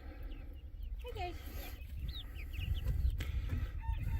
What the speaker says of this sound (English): And there's the 3 roosters.